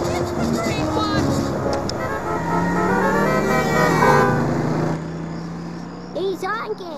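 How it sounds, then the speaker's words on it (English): Cartoon car horn honking in short toots amid animated characters' shouting and music, the honks mixed with continuous talk and fading near the end. "He's honking."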